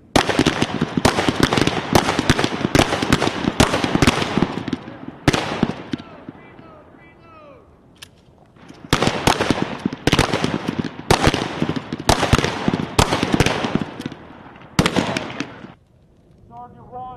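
Rifles fire on a military range in rapid volleys of sharp, loud cracks, in bursts separated by short pauses, with a brief quiet gap in the middle.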